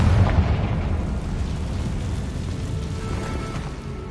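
A Confringo fire spell in Hogwarts Legacy bursts in a loud, booming explosion near the start, then leaves a rumbling, crackling roar that fades slowly over several seconds.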